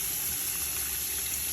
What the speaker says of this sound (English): Rinse and fresh water is just helping to remove the vinegar.